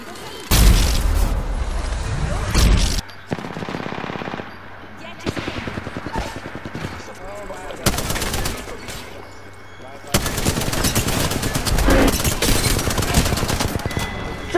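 Automatic and single gunfire in an Apex Legends match, loud rapid bursts of shots with booms, broken by short pauses across the stretch, with a voice talking over parts of it.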